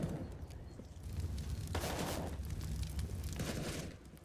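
Muffled, continuous gunfire rumbles through an esports match of a tactical shooter video game, a low dense roar of shots with a few sharper bursts, fairly distant and steady, with no talk.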